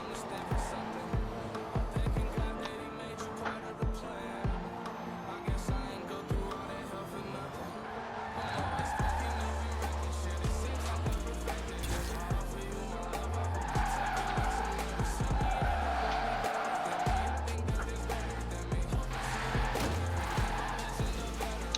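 A McLaren revs and accelerates in a racing video game, its engine note rising and falling in repeated pulls, with tire squeal and skids over background game sound and a voice talking intermittently.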